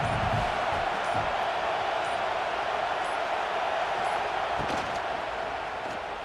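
Stadium crowd noise from an LSU vs Michigan matchup in the College Football 26 video game, a loud, steady roar that holds without a break from start to finish.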